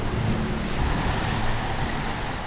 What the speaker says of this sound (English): Water breaches the bridge, the highest point on the ship.